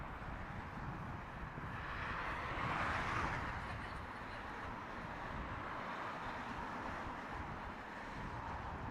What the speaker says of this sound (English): Emirates A380, gear still up